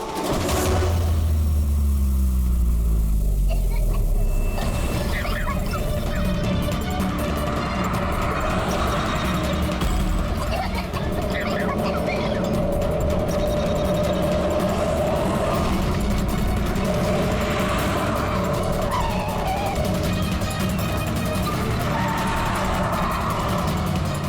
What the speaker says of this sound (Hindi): गाड़ी स्लो कर।